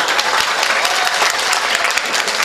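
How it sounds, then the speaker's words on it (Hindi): An audience claps at a mushaira poetry gathering, dense sustained applause from a crowd filling the whole moment at close range. "अभी ये एक बार ताली बजा के जरा हुक्म दे दें आप"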